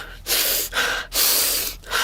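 A voice imitates angry, intensified breathing: three loud, forceful breath bursts, each a harsh rushing inhale or exhale, separated by brief pauses, close and alone with no talk.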